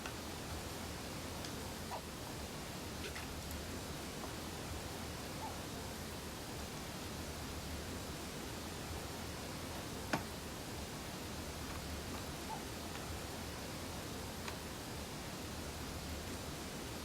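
A waterfall in the video game Harvest Moon: A Wonderful Life rushes as a constant, even hiss of falling water, unbroken and smooth throughout, with only faint ticks above it and no voices.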